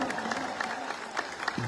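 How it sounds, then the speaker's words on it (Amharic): A church congregation claps together in brief, moderately loud applause during a service celebrating a newly built sanctuary. "ከእግዚአብሔር ጋር ስለ ራሳችሁ አጨብጭቡ።"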